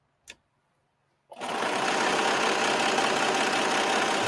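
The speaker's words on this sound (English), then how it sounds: "the serger just cut through 4 pieces of material" A serger sewing machine starts after a single click and runs steadily, loud and close, as it stitches and trims through four stacked layers of fabric, with a fast, even mechanical whir and no talking.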